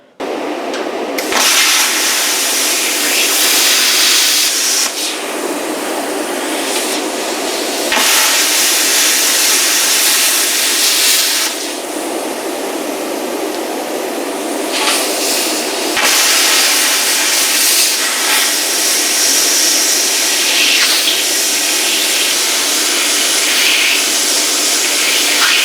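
A CUT50 plasma cutter slicing through metal gives a loud, steady hissing roar that runs almost the whole time, with brief pauses and restarts between cuts and no talking.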